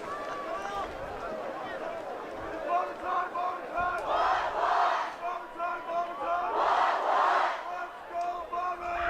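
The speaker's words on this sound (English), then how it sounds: "you can already hear the crowd, student sections getting loud on both sides" Football crowd at a Hanford Falcons vs. Richland Bombers high school game, student sections on both sides shouting and cheering loudly in sustained waves that swell and surge, with a dense roar of many voices.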